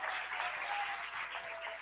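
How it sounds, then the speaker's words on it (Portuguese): Faint, distant-sounding applause from a church congregation, a continuous wash of clapping with no voices standing out. "Pode aplaudir o nome do Senhor Jesus"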